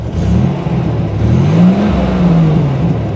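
A 1987 Buick Grand National engine revs up and settles back, a loud, close, low droning roar whose pitch climbs and falls over a few seconds, with no voices.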